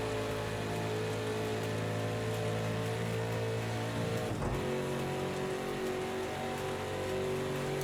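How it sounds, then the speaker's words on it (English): A Ford Mustang GTD race car engine droning steadily while straining and sounding faulty during the IMSA Six Hours of the Glen endurance race, a continuous close hum with a brief dip midway. "the engine's not sounding quite right at the moment"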